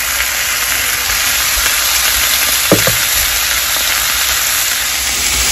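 Deer backstrap sears in a hot pan with a loud, steady hiss and sizzle of fat throughout, and a couple of brief clinks near the middle.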